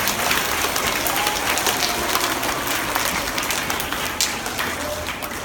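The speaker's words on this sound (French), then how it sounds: "Applaudissez-vous." Crowd applause at a school fundraising launch event for a hospital charity run, dense steady clapping from many people throughout, loud and close, with some voices mixed in.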